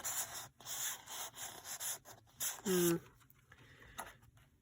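Paper being trimmed for a mail folio makes repeated scraping, rubbing strokes in short bursts, fairly close, with a brief tonal squeak partway through and a voice speaking quietly nearby.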